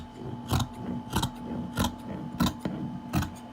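Scissors snip through two stacked layers of fabric while a garment pattern is being cut, five crisp, fairly thick crunching cuts spaced about every half second to second, close and quiet.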